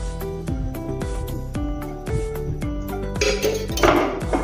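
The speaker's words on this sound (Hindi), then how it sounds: "अभी मैंने पैन रखा है, पैन में हम तेल डालेंगे।" A metal pan is set down on the stove before oil goes in, with a run of bright, ringing metallic clanks repeating about twice a second, close and fairly loud, and no talking.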